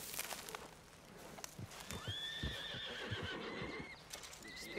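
Horses in Red Dead Redemption 2 whinny at a homestead, a drawn-out neigh standing over hoof clops and general outdoor noise. A second, shorter whinny comes near the end.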